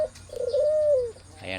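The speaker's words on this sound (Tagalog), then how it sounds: "binigyan tayong panibagong ibon na alaga ngayon guys" A newly acquired pet pigeon-like bird gives one clear, close coo lasting about a second, with a short faint call just after.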